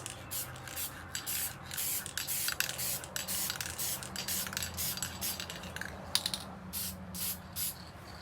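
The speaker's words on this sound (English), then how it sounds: "I'll get the rest of these sprayed out" Spray gun coating wooden Adirondack chairs with a metallic finish in a workshop, heard as repeated hissing bursts of spray with short pauses between passes, fairly close, over a low steady background hum.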